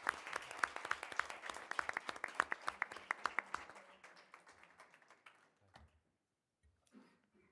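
Applause and clapping for a school choir at an evening governing board meeting, dense and steady for about four seconds before thinning to scattered claps and fading out.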